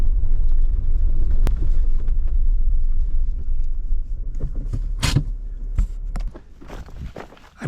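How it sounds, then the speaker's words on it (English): A car crawls along a dirt road near the Amistad Reservoir Dam, a heavy low rumble of tires on gravel that slowly fades, broken by scattered sharp clicks and crunches near the end. "I'm driving on this dirt road to get a view of the dam"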